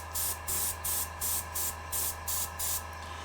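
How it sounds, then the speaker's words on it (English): An airbrush sprays white paint onto a miniature model in short, evenly spaced hissing bursts, about eight quick pulses of soft airy spray over a low steady hum, with no talking. "See, I'm spraying just a little bit of spray and it almost looks like it's gray"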